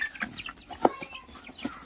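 Chickens packed in a carton cluck softly nearby, with scattered short calls and one sharper squawk over light rustling.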